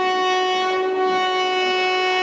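Hazara Express passenger train departing and running at night, a loud continuous tonal roar with strong sustained harmonics, close and steady throughout.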